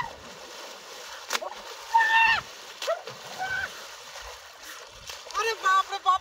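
A person bathing in the Ganges river sends up intermittent splashes and sloshes of water, close by, while a voice talks over them.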